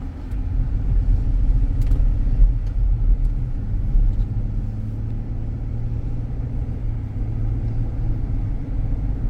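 A 2016 Ford Expedition EL drives and accelerates on the road, its engine and road noise forming a steady loud low rumble inside the cabin, with no voices.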